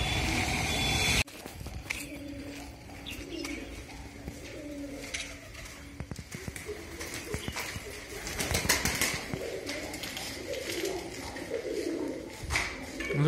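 Pigeons coo at a nest in an old fort, giving low repeated calls with occasional wing flaps over a busy outdoor background, while people talk nearby.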